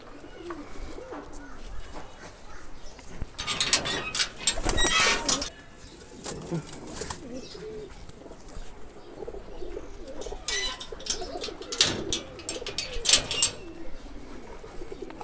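Racing pigeons in a loft coo in soft repeated rolling calls, with bursts of wing flapping and scuffling among the birds, fairly close.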